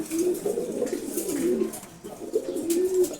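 Male racer pigeons coo inside a loft, soft repeated throaty coos rising and falling in a few phrases, fairly faint and close, with no talk.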